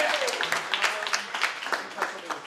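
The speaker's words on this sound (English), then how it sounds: "Give a round of applause." Magic show audience claps in a quick, fairly loud burst of applause, with a voice talking over it.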